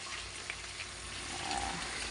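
Sea salmon fries in hot oil on a beach cookout, giving a steady, dense sizzle that stays even and close throughout without any voices.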